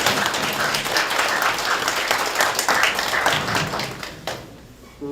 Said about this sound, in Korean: 뜨거운 박수로 맞이해주시죠.